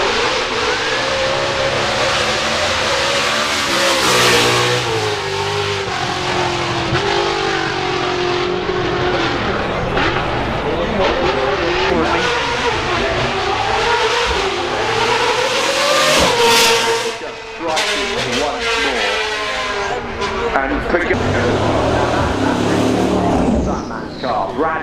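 A Sadair's Spear track-only hypercar accelerates hard at the Goodwood Festival of Speed 2025, a loud, sustained engine roar with rising and shifting pitch and a noisy crowd around it, while a commentator talks over it.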